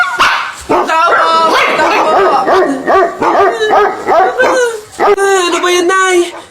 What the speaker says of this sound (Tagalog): Nakakatakot naman yung mga tahol na aso.